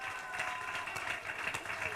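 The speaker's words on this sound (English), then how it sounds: "Please give her a big round of applause." An audience applauds at a primary school excellence award ceremony, a steady even patter of many hands clapping through the short moment, with no voice on top.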